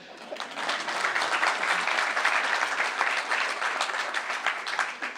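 A welcome-speech audience gives sustained, dense applause, steady and fairly loud throughout, with no speech over it.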